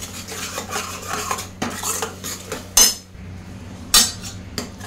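A spoon scraping and clanking against a pot as tomato puree with ground chili and ginger is sautéed, steady stirring with a few sharp metallic knocks, close and fairly loud.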